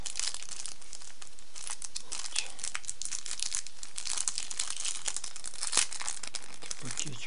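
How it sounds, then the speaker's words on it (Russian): A small packet of adhesive for a smartphone screen protector is torn open by hand, producing a close, continuous plastic crinkling and rustling with a few sharper crackles. "Этот пакетик открываем."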